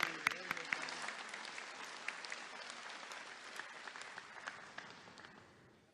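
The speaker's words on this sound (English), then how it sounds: "If we could give her a round of applause." Audience applause fills a large hall at an annual general meeting of the Assembly of First Nations, a sustained wash of clapping that slowly thins out, with a voice briefly heard over it near the start.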